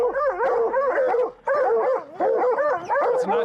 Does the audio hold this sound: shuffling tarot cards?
no